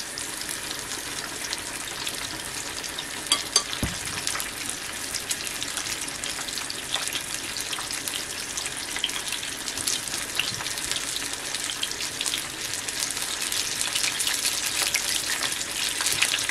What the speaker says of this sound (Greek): Αφήνουμε να τηγανιστεί καλά από τη μία μεριά.